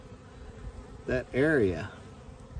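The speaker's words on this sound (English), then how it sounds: "you can see bees climbing around inside that" Honeybees buzz inside a beehive box, a steady faint hum that swells into a brief louder burst of buzzing near the middle; a voice speaks briefly.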